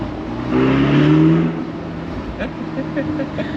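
A Ferrari supercar's engine revving and driving through narrow Toulon streets, a rising roar that peaks then settles to a lower rumble, with people talking alongside.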